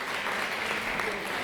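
An audience at a conference on maladaptive daydreaming in Catania applauds in a brief, even wash of clapping, heard faintly from a distance.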